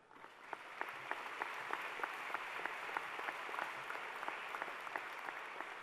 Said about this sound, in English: Give yourselves a round of applause for achieving this milestone.